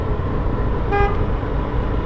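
A brief car horn toot sounds once from nearby traffic over a steady engine and road rumble.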